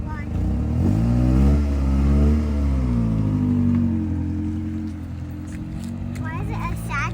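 A Honda Civic pulls away and accelerates, its engine note rising and falling in a steady hum before fading slightly as the car moves off.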